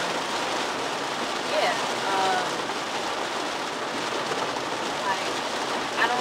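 Heavy rain shower pouring steadily after a drizzle, a dense continuous hiss close by and fairly loud, with no breaks.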